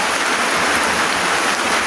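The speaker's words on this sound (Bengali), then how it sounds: "এখন বৃষ্টি নেমে গেছে" Rain pours down in a sudden shower, a dense, even hiss of drops that runs steadily and close at hand without a break, with no voices over it.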